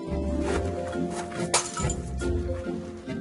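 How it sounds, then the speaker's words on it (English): Small clay flower pots are smashed into shards in a garden, giving a sharp clinking crack among scattered knocks and clatter of broken pieces. "helps Monty by smashing up some small pots"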